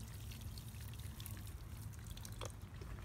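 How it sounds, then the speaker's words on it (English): Water pours into the soil of a potted fig tree standing in a saucer, making a soft, quiet, continuous trickle and pour. "watch how fast the water runs down and out of the container"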